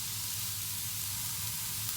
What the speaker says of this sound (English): now we're going to add in our onions, as well as our peppers. We're going to saute them until they wilts